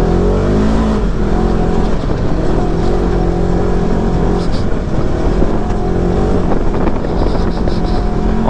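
A 2021 Polaris RZR 1000 XP off-road vehicle drives with its engine roaring loudly and continuously, a dense, close, rumbling drone that stays steady throughout.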